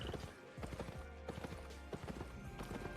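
In Albion Online, hooves of a slow ox mount clip-clop in a steady, rapid rhythm of mid-loud game footsteps, with faint background game sounds and no talk.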